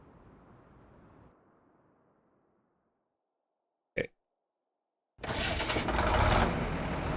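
A restored Zetor tractor engine catches after a quiet stretch and a single sharp click, then settles into a loud, rough, steady running roar close by.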